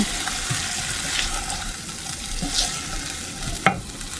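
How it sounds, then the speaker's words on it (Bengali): Lightly boiled taro root pieces are sautéed in a pan, producing a continuous loud sizzle with scraping stirs and a sharp clink near the end, no voices over it. "গাঠি কচুর গোড়া, তাই দিয়ে এখন এটার আমি একটু কষান দেব।"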